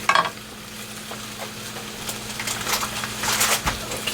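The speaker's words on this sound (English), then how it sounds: "I put my sausage in the pan, which is starting to bubble a bit." Sausage fries in a pan that is starting to bubble, giving a steady soft sizzle with occasional scraping stirs and light clinks of utensil against the pan.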